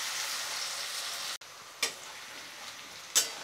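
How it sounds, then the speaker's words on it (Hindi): Chopped onions, two medium ones, frying in a pan for an oyster masala dish, giving a steady soft sizzle with a couple of brief clinks or stirs, close and moderately quiet with no talk. "प्याज को हम गोल्डन ब्राउन हो जाने तक अच्छे से फ्राई कर लेंगे।"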